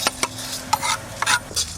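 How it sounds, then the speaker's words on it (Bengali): Whole spices with bay leaf and dried red chilies dry-roasting in an unoiled pan, stirred with a utensil that gives sharp irregular clinks and scrapes against the metal, close and fairly loud. "মশলাটা একটু ভেজে নেব শুকনো খোলায়"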